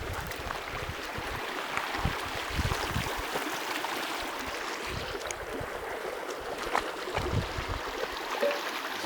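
Water from a mountain stream rushing and splashing over rocks makes a steady broadband roar, close and continuous, with small irregular gurgles on top and no voices.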